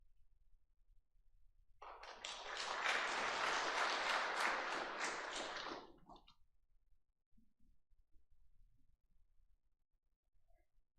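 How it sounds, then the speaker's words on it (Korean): Audience applause at a book concert, a steady wash of clapping swelling for about four seconds as a speaker is welcomed, then fading back to a quiet room. "큰 박수로 맞아주시기 바랍니다."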